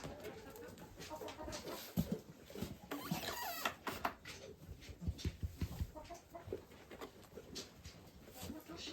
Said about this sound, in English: Checking out the chickens.